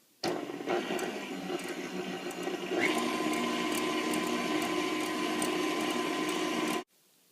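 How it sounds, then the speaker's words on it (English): A steady electric hand or stand mixer whirring loudly as it beats egg whites with granulated sugar for angel food cake, running nearly seven seconds with a slight pitch lift partway through before cutting off abruptly. "with the mixer turned back on, I'm going to gradually blend in 2/3 of a cup of granulated sugar"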